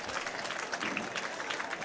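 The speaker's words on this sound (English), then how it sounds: "the fans give them a nice round of applause as well" Fans in the stands applaud at the CJFL Canadian Bowl football game as the teams shake hands at midfield, a sustained wash of crowd clapping and cheering at an even level throughout.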